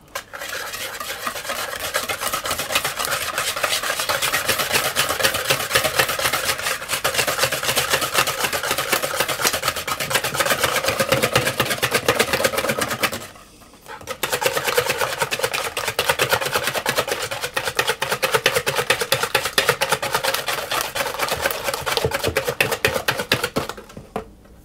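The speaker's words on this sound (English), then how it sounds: "I'm going to add in my whole eggs and my egg yolk, my egg white. And I'm simply going to whisk those together." Whole eggs, an egg yolk and egg white being whisked with sugar in a bowl for madeleine batter, a steady fast scraping, clicking whisk rhythm that runs almost continuously with one brief pause midway, close and fairly loud.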